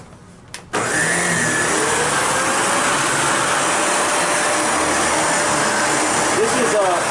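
A lift-away upright vacuum cleaner switches on after a brief quiet moment and runs on carpet with a loud, steady whooshing drone that holds throughout, up close.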